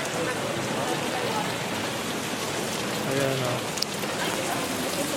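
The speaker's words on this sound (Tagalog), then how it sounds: "Ang lakas ng ulan." Heavy rain in Bratislava, Slovakia pours steadily as a dense, unbroken hiss, loud and close, with a faint voice briefly audible beneath it.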